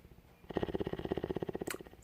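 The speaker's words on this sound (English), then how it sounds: "Those are good purrs as well." A cat purrs steadily up close, a fast rhythmic rumble lasting about two seconds with no talking.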